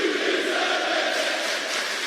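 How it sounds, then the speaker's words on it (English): A wrestling arena crowd at an Impact event chants and roars as one dense, continuous wash of voices, fairly distant and even in level throughout. "Now the crowd chanting."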